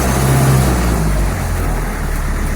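A Land Rover Defender 90 with a 2.5 naturally aspirated engine drives uphill, its steady low engine drone loud and close, alone with no talk.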